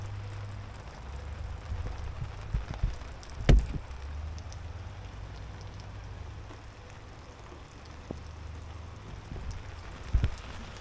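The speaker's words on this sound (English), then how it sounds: "So it's actually raining a good bit," Steady rain falls around a parked RV at a campsite, a soft constant patter with a few louder knocks of drops on the roof, faint and even throughout with no talking.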